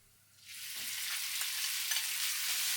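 Marinated beef dropped into an oiled pan bursts into a sudden sizzle that swells and holds as a steady, fairly quiet frying hiss.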